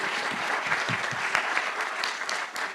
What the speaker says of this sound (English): big applause for Steve, please